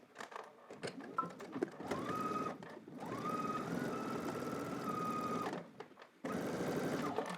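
A sewing machine stitching around drop crotch pants, a steady whirring mechanical hum with a rapid needle chatter, running in long continuous bursts with brief pauses between them.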